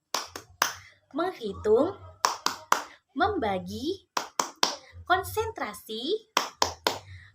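Children in an elementary school maths class clap a rhythmic chant, sharp hand claps in short patterned bursts alternating with group chanting in a close, quiet room.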